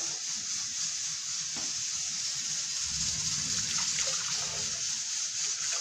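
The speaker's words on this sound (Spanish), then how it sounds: "voy a vaciar caldo en la licuadora" Broth poured into a blender for a Mexican pipián sauce, giving a steady watery gush and splash that runs unbroken for several seconds and swells slightly partway through.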